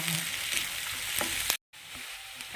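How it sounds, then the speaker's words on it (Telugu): Green chillies and onions fry in a pan for a cauliflower and potato curry, giving a loud, continuous hiss and sizzle with a few stirring scrapes and a momentary cut to silence partway through. "పచ్చిమిర్చి బాగా వేసాక బాగా ఫ్రై అవ్వండి"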